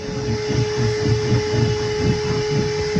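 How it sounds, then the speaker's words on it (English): A shop vac vacuuming out a storage area, running steadily with a loud, continuous whirring roar and a fixed motor whine, close and alone with no talk. "we're going to use a shop vac to clean out that area of all the stuff from the factory"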